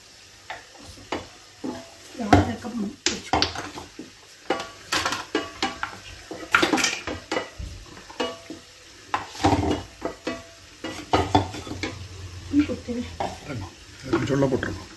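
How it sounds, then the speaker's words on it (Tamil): Grated coconut being stirred in a hot pan on retained heat, with intermittent scraping and clinking of a spatula against metal, a faint sizzle underneath, and a voice talking at times. "Get the coconut lightly roasted in the retained heat itself."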